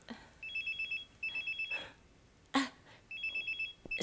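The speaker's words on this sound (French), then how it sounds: "C'est mon portable." A mobile phone ringtone rings in repeated electronic bursts, close and clear, with brief pauses between phrases and a short sharp noise midway.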